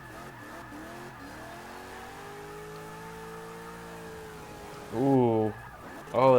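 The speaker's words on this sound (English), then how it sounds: "This car sounds really underpowered" An underpowered race car engine drones during Indianapolis qualifying, its note rising and falling as cars pass, with sharper revving bursts near the end while a voice lets out brief exclamations.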